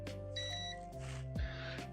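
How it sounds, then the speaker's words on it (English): A digital multimeter set to continuity mode gives a steady electronic beep on a connected circuit, a loud tone that sounds twice, about half a second apart, over faint background hum. "You'll hear a nice audible beep."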